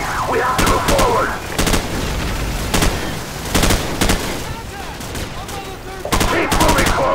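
Bursts of automatic suppressing gunfire in the Call of Duty 4: Modern Warfare mission The Bog, fired in clustered volleys across the scene with loud rattling shots over a constant battlefield rumble, with shouted voices in between.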